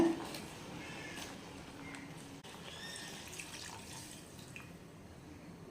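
Water trickles and splashes steadily into a clay pot of boiling chicken curry for several seconds, with faint drips and no talking, ending in a brief knock.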